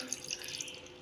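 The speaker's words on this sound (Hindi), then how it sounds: "ये मैं इसमें आधा गिलास पानी का डालूँगी ताकि ये अच्छी तरह से ग्राइंड हो जाए" Half a glass of water poured into a mixer-grinder jar holding garlic for a chicken biryani masala, a short, soft trickling splash with light dripping, close by and alone.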